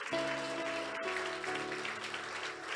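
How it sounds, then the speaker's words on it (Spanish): Church congregation clapping in praise during a Spanish-language Pentecostal service, steady broadband applause with sustained organ or keyboard tones underneath throughout. "denle ese fuerte aplauso al Señor"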